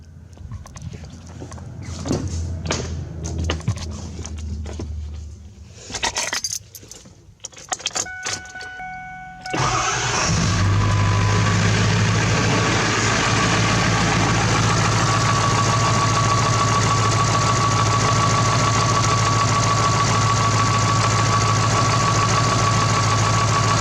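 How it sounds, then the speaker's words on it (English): A 7.3L Power Stroke diesel pickup engine cranks and fires, then settles into a loud, steady clattering idle that runs for the rest of the clip, heard up close with no talk. "I got the truck outside warming up."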